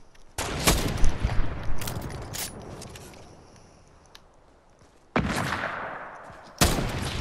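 Heavy sniper rifles firing in a video game arena match, several loud sharp cracks spaced a second or more apart, each blasting out then decaying in a long echoing tail, with a final two shots after a lull.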